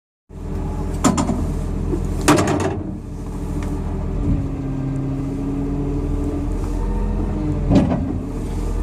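Komatsu D65PXI bulldozer slot dozing in first gear, a steady loud diesel drone heard from inside the cab with a few clunks and a short whine as it pushes material.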